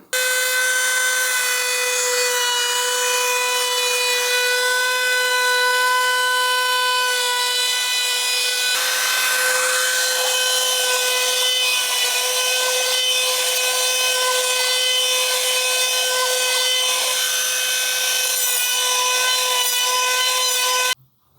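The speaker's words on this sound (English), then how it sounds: "let's take this round over bit along the edges of the armrest and the cup holder" A router fitted with a round-over bit cuts along the edges of a pine porch swing armrest and cup holder, a loud steady high whine with strong harmonic tones that holds continuously for about twenty seconds before cutting off.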